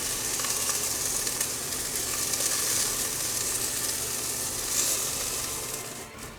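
Beef frying in a hot pan gives a dense, continuous sizzle and crackle that stays loud and even throughout, with faint stirring and no talk.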